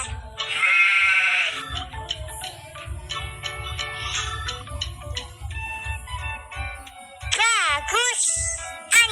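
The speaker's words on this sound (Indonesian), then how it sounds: "domba" Sheep bleat loudly in quavering, wavering calls, with a voice chiming in between bleats and a final pair of sharp bleats near the end.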